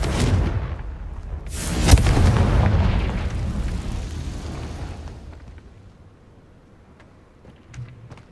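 Heavy blasts from the Confringo fire spell in Hogwarts Legacy on PS5: a loud rumbling explosion with a sharp crack near the two-second mark, then a long fade into quiet with a small later thump.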